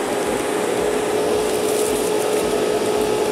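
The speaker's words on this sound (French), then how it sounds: "On va allumer la ventilation." A ventilation fan in a model workshop, used during a Revell HLF 20 Varus 4x4 kit build, gives off a loud, steady whooshing whir with a constant low hum and no pauses.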